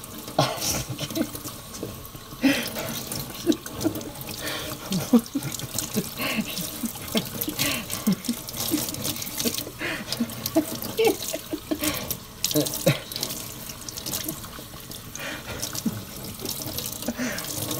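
Tap water runs steadily into a sink while blue hair dye is rinsed out, a continuous splashing rush broken by changing splatters as the hair moves under the stream.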